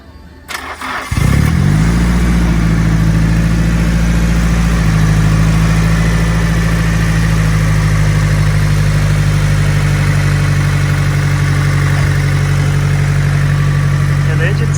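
A Nissan 180SX drift car engine cranks and fires up, then settles into a steady, loud idle that rumbles on without stopping, with road noise nearby.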